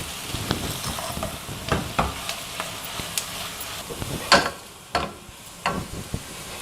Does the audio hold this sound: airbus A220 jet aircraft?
no